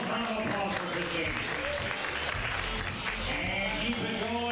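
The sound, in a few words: audience applause for comedy performer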